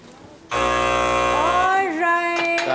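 Long, loud electronic buzzer blaring steadily for about two seconds at the end of a televised cooking contest making banana muffins and mutton qorma, its tone wavering slightly as it fades.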